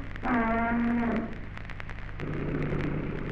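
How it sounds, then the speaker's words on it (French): Cows moo in a stable in 1950s Alsace, with one long, loud low bellow up close, followed after a pause by another lower, quieter moo over a faint background hum. "les vaches, qui sont pourtant nombreuses, sont élevées à l'étable"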